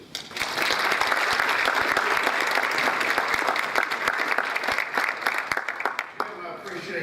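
An audience at a United Way of Northwest Louisiana gathering claps loudly and steadily to welcome a speaker, with sharp nearby claps over the dense crowd, tapering off near the end as a voice briefly begins.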